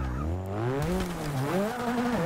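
A 1980 Renault 5 Turbo in Forza 6 spinning its wheels with the differential locked: a loud engine whine rising and wavering in pitch over a steady tire-squeal hiss, close and continuous.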